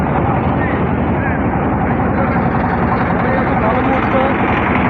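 Boat engines near a river launch terminal in Barisal, a loud, steady motor drone without a break.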